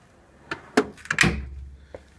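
A drawer of a Harbor Freight US General five-drawer metal service cart slides open with a few close clacks and a rolling rattle of metal and tools, no one talking.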